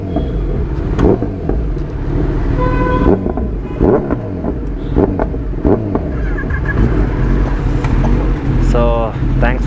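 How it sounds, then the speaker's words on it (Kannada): A motorcycle at a superbike launch gathering in Bengaluru rumbles and revs loudly nearby, with sharp throttle blips and a rising rev toward the end. Voices and other traffic noise mix in around it. "ಗಾಡಿ ಸೌಂಡ್ ಮಾಡ್ತಾ ಇದೆ ಫುಲ್ಲು"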